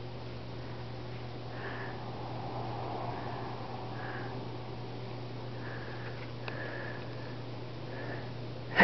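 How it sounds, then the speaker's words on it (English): A cat sniffing at a person's hand indoors, giving soft, close, intermittent sniffs over a steady low hum, with a brief louder rustle at the very end. "Sniffing my hand."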